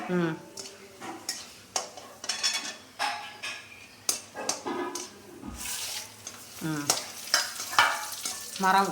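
Dried red chillies sizzle in a pan on a low flame while a spoon scrapes and clinks against the metal in uneven strokes, with a voice talking over the cooking.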